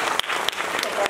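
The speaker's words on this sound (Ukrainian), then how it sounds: "ще раз оплески тим молодцям" Audience applause at a music school's annual recital concert, a dense patter of clapping with a few sharp louder claps standing out, steady and close for the whole short stretch.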